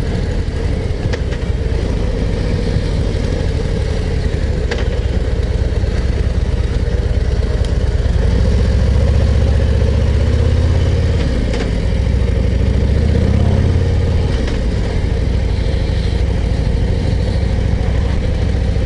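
A 2024 Harley-Davidson Street Glide 117 motorcycle engine rumbles steadily at close range, deep and continuous, with the revs rising and falling slightly throughout.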